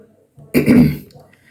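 A single short throaty cough, close and fairly loud, after a moment of quiet.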